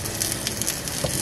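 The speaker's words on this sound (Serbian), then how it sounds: "A zatim ćemo da izlijemo ovu smesu od jaja i sira." A beaten egg and cheese mixture hitting a hot frying pan for a quick breakfast of zucchini and eggs, giving a steady, dense sizzle that crackles evenly throughout with no voices.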